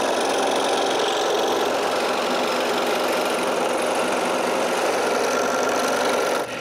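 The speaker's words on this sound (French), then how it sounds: "là, j'utilise la scie à chantourner." A scroll saw cuts a wooden pattern piece for a small pharmacy cabinet door, a continuous close buzzing rasp of the reciprocating blade that runs without a break until it stops at the end.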